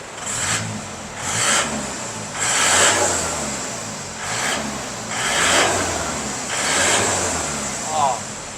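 An Isuzu TFR pickup truck's engine revs up and eases off in repeated bursts through an aftermarket exhaust, a steady drone rising about six times, fairly close and loud, with no talking.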